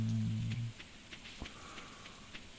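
Rain patters steadily in the farming game Stardew Valley, a soft, even hiss of drops with a few light taps. It follows a brief low in-game tone at the start.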